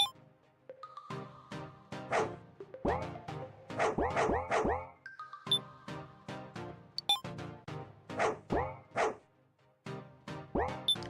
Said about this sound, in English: I just like hearing the woof.